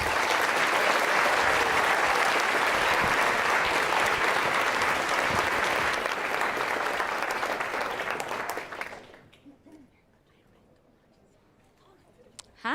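A conference audience applauds a speaker at a game developers' talk event, sustained dense clapping for about nine seconds before it fades into a quiet room.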